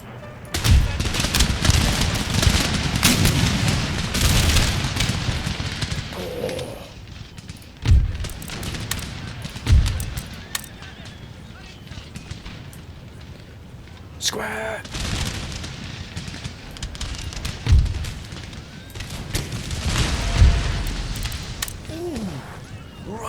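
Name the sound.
artillery barrage and gunfire in video game Empire Total War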